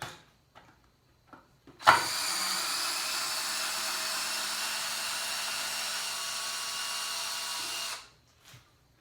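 A power tool drives a screw into a saw stand during a rebuild. After a few faint clicks, one loud, continuous whir lasts about six seconds, then stops abruptly into quiet.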